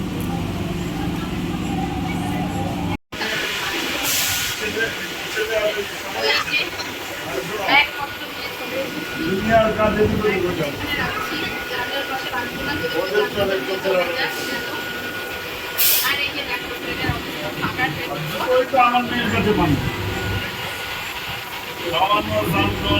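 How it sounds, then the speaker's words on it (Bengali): A passenger train on the Bongaon–Ranaghat line stands at a station at night, its steady rumble and hiss filling the scene with rail noise throughout, while voices talk over the continuous background. "আর ট্রেনটা দেখো, আমাদের বনগাঁ রানাঘাট লাইনের ট্রেন"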